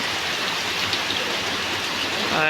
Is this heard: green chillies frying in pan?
no